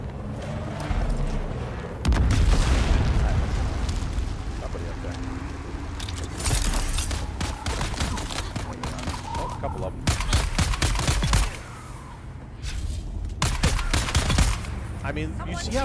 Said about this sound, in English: Somebody's still shooting. Who's shooting?